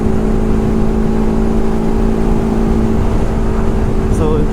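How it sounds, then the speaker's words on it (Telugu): A TVS Apache RR 310 BS4 motorcycle fitted with a K&N air filter runs loud and close at speed, a steady engine drone with wind rush and a faint rising rev near the end. "వాడికి ఇంకా లేపుతున్నాడు బండి"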